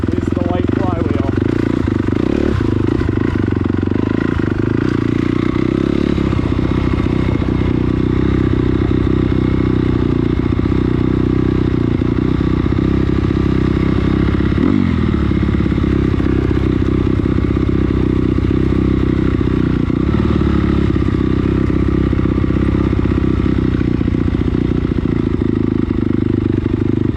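Four-stroke KLX140 and CRF250R dirt bikes ride along a trail, their engines making a loud, steady drone with slight shifts in pitch throughout, while a rider talks over the noise.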